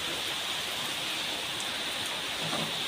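Steady rain falls, an even hiss of drops on surfaces throughout, with no voices.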